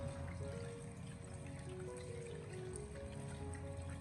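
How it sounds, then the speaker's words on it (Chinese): Pork ribs rinsed under a running kitchen tap, a steady close trickle and splash of water continuing without pause throughout, with low background hum and no talking. "接着再用流动的自来水将排骨给它冲洗一下，将其给它冲洗干净"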